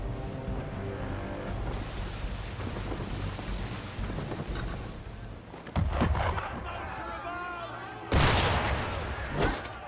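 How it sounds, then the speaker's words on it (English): Cannon fire from another vessel strikes at a sailing ship in Assassin's Creed 3, heavy booms landing over wind and sea noise, with two sharp, close blasts near the end under an otherwise rushing backdrop. "Why is he shooting at us?"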